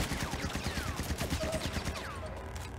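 Rapid gunfire in the video game Crossfire X, a fast rattling burst of many closely spaced shots, fairly faint and continuous throughout, with no talk.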